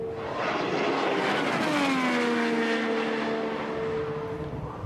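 An IndyCar at Indianapolis Motor Speedway during Indy 500 qualifying, its engine note loud and continuous with a falling pitch sweep as the driver lifts off the throttle, then steady high-revving drone.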